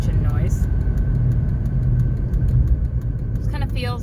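A 2007 Honda Civic engine runs steadily, a continuous low rumble with a faint whine throughout, while people talk over it.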